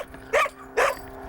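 Two short barks from a dog at outdoor kennels with insulated dog houses, evenly spaced and fairly close, over a low background hum.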